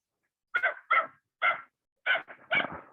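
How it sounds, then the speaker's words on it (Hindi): A dog barks outside in a short series of six sharp barks, fairly close and loud, with silence between them. "बाहर कुत्ता भौंक रहा है कंटिन्यू।"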